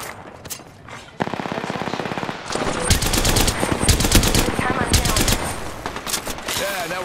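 Gunfire in Apex Legends: rapid bursts of automatic weapon fire, loud and close, rattling in repeated volleys with brief pauses and overlapping shots.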